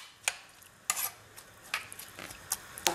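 Tomato sauce frying in a pan with a spoon stirring it, heard as a quiet, soft sizzle broken by several sharp scraping and clinking strokes against the pan at uneven intervals.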